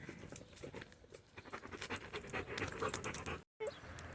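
A long-haired German Shepherd pants rapidly and steadily up close, a continuous breathy huffing rhythm with a brief cut-out near the end.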